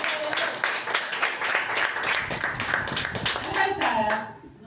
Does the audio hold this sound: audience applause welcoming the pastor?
yes